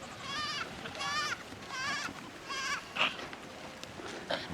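Several goats bleat in repeated, wavering calls close by in an open pasture, with a person calling softly to them in between and a couple of short sharp sounds near the end.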